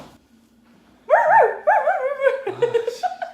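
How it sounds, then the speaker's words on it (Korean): A toy poodle barks and yips in a short excited run that starts after a near-silent pause and continues up close, with some quieter whimpering mixed in. "개짖는 개짖는 소리 한다 진짜."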